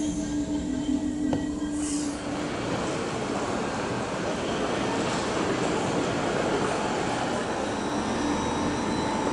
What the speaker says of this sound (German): da rangiert die Lok weg, die V60